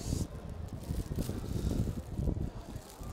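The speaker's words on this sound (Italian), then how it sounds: "Vento, vento, vento, come sempre." Wind blows outdoors on a hot day in Milan's Chinatown, a steady low rumble and buffeting against the microphone that swells and eases throughout, with no voices over it.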